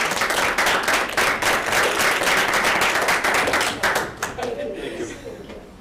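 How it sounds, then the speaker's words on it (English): An audience at a Board of Health meeting applauds warmly for several seconds, the clapping thinning out and fading toward the end. "We can clap for Connie."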